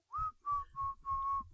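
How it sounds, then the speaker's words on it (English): Inward whistling from the comedy ad Earl Whistles Disney: a breathy, reedy whistle in four sustained phrases with short gaps, close and alone without speech. "his newly mastered technique of inward whistling"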